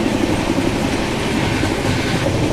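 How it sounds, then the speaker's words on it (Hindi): The Delhi–Daulatpur Chowk Jan Shatabdi Express passes close by in a loud, steady roar of rail noise with clattering wheels. Rumble fills the whole clip without any voices. "अभी दिल्ली दौलतपुर चौक जनशताब्दी एक्सप्रेस, जो कि नई दिल्ली से चलती है।"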